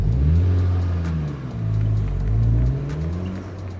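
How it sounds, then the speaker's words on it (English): A Honda Civic Type R's engine revs in deep rising and falling swells through its triple exhaust, a throaty rumble climbing and dropping twice, heard close with no talking. "With 3 exhaust pipes, all logic would dictate that this would be one loud Civic Type R."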